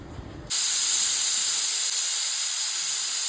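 A pressure cooker holding veg shahi biryani with coriander vents a loud, steady hiss of steam that bursts on abruptly and carries unbroken for about three seconds, close by and alone.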